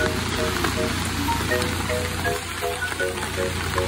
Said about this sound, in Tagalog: kasalukuyang umuulan pa po